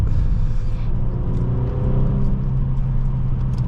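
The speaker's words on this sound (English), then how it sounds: "when you floor the car, it makes you go like this, like it shoves you right into the seat" A 2015 Mercedes-Benz E350 4MATIC pulls away hard from a standstill, heard from inside the cabin as a loud, continuous low engine rumble and whir that holds steady throughout; no talking.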